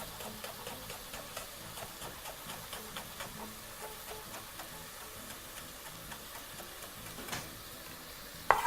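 Butter melts in a hot pan on the stove with a steady, close sizzle and faint crackle, broken by small regular ticks and one sharp knock near the end.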